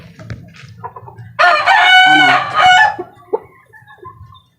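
A rooster crows loudly and close by, one long crow, among the steady clucking of hens in a backyard pen.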